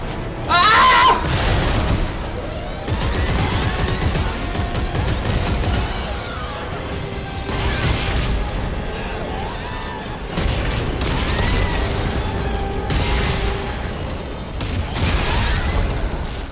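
Weapon fire in the sci-fi horror game Dead Space 3 during co-op play, repeated bursts of shots and booming impacts spread through a loud, busy mix of creature noises and effects.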